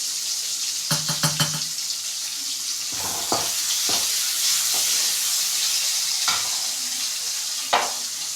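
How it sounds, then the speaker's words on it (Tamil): Onions frying in oil after mustard seeds crackle, for snake gourd kootu, a continuous loud sizzle with a burst of rapid clatter early on, then intermittent scraping stirs of a spoon in the pan. "இப்போ கடுகு நல்லா பொரியுது பாருங்கள். ஸோ நம்ம கட் பண்ணி வச்சுருந்த வெங்காயத்தை போட்டாச்சு."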